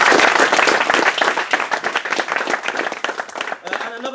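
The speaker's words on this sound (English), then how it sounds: "So big round of applause to those guys." Audience applause at a hobby league awards ceremony, loud and dense from the start, with voices mixed in, gradually easing toward the end.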